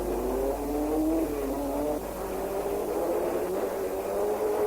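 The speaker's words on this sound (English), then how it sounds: "Briggs' Cunningham car, in the hands of Lake Underwood, was misfiring badly and being caught up by Von Trips in the rapid little Porsche" Sports racing cars from 1959, a Lister and a Porsche, race past with high, rising engine notes and shifting revs, loud and close, overlapping continuously with no speech.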